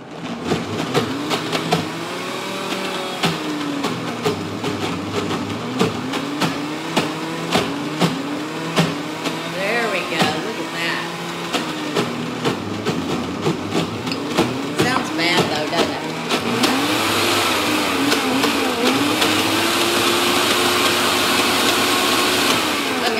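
A blender whirs loudly and steadily through carrot and onion dip, its motor pitch rising and falling, with a person talking over the noise; the tone shifts to a harsher, brighter whine near the end.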